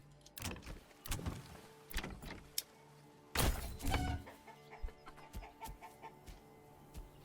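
Chickens clucking in the medieval village game Manor Lords, scattered short clucks and squawks at moderate distance, irregular and bunched, over a faint steady background ambience.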